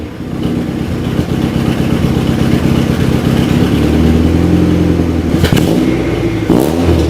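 A revving engine with its exhaust leaking at the headers roars loud and close, holding a steady rasping drone before the revs swell and fall in a couple of rising-then-dropping sweeps, with no speech.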